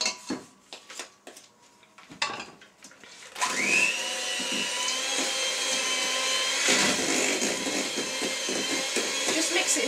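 An electric mixer beats sponge cake batter until creamy, starting after a few bowl and utensil knocks and then whirring loudly and steadily close up.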